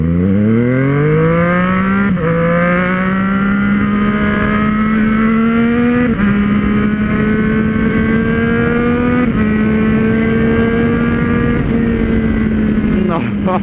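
A motorcycle engine revs hard and climbs in pitch, with several quick gear-shift dips before rising again, loud and close.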